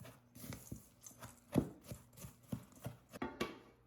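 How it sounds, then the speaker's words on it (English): Cookie crumbs, sugar and melted butter being mixed in a bowl for a lemon blueberry cheesecake base, giving a run of irregular scraping and knocking strokes, close and fairly quiet, with no talking. "we're just going to give it a good mix"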